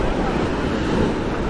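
Sea surf at Tiruchendur beach, a loud continuous wash of breaking waves mixed with wind buffeting the microphone.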